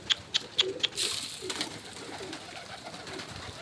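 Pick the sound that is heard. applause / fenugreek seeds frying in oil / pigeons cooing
pigeons cooing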